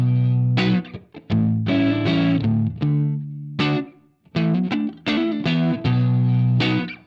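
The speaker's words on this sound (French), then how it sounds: "Si je rajoute la reverb..." Electric guitar played through Guitar Rig 5 Pro with reverb added, ringing out loud, distorted chords and notes in several bursts with short gaps, heard alone without any voice.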